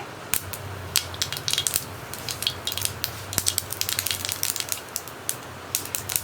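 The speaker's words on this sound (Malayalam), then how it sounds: "എണ്ണ നന്നായി ചൂടായി കഴിയുമ്പോൾ നമുക്കിതിലേക്ക് 1 ടീസ്പൂൺ കടുകൊന്ന് പൊട്ടി വരട്ടെ." Mustard seeds crackle and pop in hot oil, a dense run of sharp, irregular snaps close by over a low steady hiss, with no talking.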